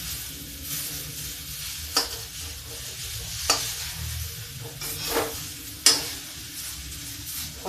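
Lobia, black-eyed beans cooked as a dry sabzi with coriander and tomatoes, sizzles steadily in a pan while a spoon scrapes and clinks against the pan every second or so.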